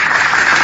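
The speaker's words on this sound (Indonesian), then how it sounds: "Tepuk tangan." A short, dense burst of applause from an audience at an Islamic religious discussion gathering, loud and steady with no voices over it.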